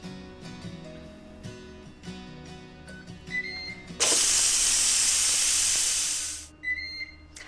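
Steam hisses loudly out of a Ninja Foodi pressure cooker during a quick release, a dense rush lasting about two and a half seconds before it cuts off abruptly, with quieter kitchen clatter before and after.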